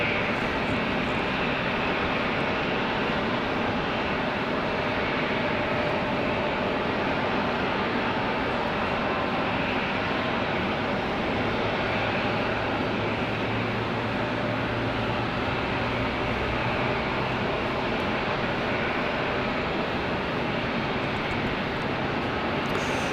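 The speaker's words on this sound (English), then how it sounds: "our next arrival, Republic Airways, is 5611 from Boston, Mass" A Republic Airways regional jet arriving from Boston at Raleigh-Durham airport in rainy weather, heard as a broad, steady engine roar with a low drone in the middle part, distant and continuous with no talk.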